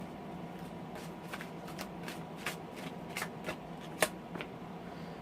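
Tarot of the Tattoo Age cards being shuffled by hand, a steady papery riffling with sharper card snaps scattered throughout, close and fairly quiet, with no talking.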